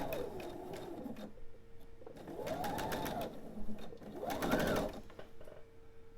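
A sewing machine stitches pieced quilt fabric for a table topper in steady, whirring bursts, with short pauses between seams while the fabric is adjusted.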